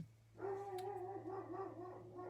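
A dog voices a sustained, wavering whine-like bark that starts abruptly and carries on steadily over a low background hum, fairly faint and alone with no talk.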